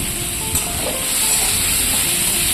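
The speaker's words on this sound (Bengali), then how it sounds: "এবার পেঁয়াজের সাথে ভালোভাবে নেড়ে চেড়ে ভেজে নিচ্ছি" Jackfruit seeds and onion frying in a pan with a little turmeric, giving a steady, close hiss and sizzle that runs on without a break, with faint stirring under it and no talking.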